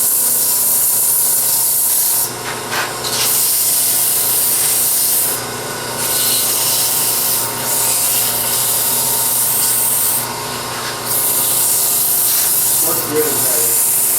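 A wooden scoop is hand-sanded with 120 grit sandpaper, a loud continuous rasping rub that runs almost without a break, interrupted by a few brief pauses between strokes.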